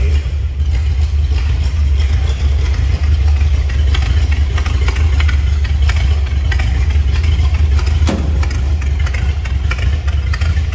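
A 1929 Ford Model A Roadster with three carburetors and cloth wiring idles steadily up close, a deep continuous rumble with light mechanical clatter throughout.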